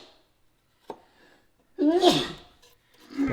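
One loud, close sneeze bursts out after a short intake of breath, followed by a second voice sound, in an otherwise quiet woodworking room.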